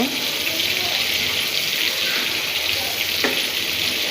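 Prawns frying in a pan, a steady broadband sizzle with bubbling texture running throughout at close range, with a brief stirring scrape near the end.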